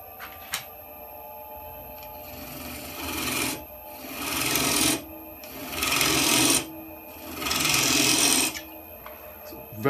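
A spindle gouge roughing out a wood spindle blank on a lathe for a lidded box, cutting in three sustained rasping passes of a few seconds each, fairly close, with quieter pauses of the spinning lathe between them.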